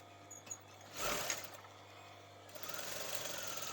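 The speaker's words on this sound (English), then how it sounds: "we're going to just top stitch this down" A sewing machine top stitching fabric runs in two short bursts, with a faint mechanical whir near the start and again toward the end, quiet and close, with no voices.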